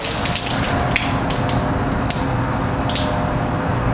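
Water sheets and runs off a car panel coated with Fusso Coat Soft 99 wax, a steady close hiss of flowing water with scattered drips and splashes, no talking.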